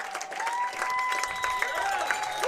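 Spectators on their feet at a high school football game between Nekoosa and Waupun clap and cheer in a brief burst of applause, with speech faintly mixed in.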